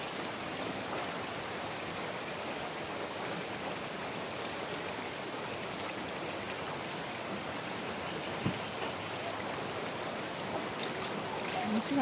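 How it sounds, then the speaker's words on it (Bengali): Heavy rain pours down outdoors in a village, a loud, unbroken wash of drops that holds steady throughout, with one brief knock near the end. "বৃষ্টি পুরো ভিজে গেছে।"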